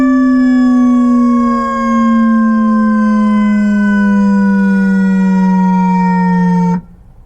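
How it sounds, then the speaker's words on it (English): A Whelen howler siren on a Ford Interceptor Utility fire vehicle sounds one loud, deep, sustained tone rich in bass. The pitch sinks slowly before the siren cuts off sharply, and no one speaks over it. "What the howler does is actually mimics a tone that is playing from the normal traditional siren with a very loud bass note."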